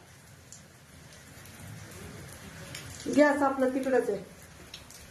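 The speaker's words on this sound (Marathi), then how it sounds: "पाऊस यायला लागलाय" Heavy rain falls at a home during a downpour, making a soft, steady hiss that runs throughout, while a person speaks briefly over it near the end.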